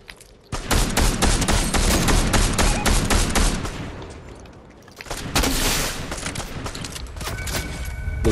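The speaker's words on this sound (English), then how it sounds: "Oh, they're shooting at me?" Dense gunfire in a video game as enemies shoot at the player, a loud sustained fusillade of rapid shots in two bursts with a brief lull between them.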